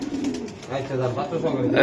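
Racing pigeons of a club breed coo in low, repeated throaty notes, close by and moderately loud, with a voice talking over them.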